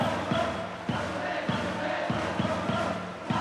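Steady stadium crowd roar with rhythmic cheering in eBASEBALL Powerful Pro Baseball 2022, Yakult versus Giants, a dense broad wash of voices with periodic thumping beats like drums or clappers pulsing through it.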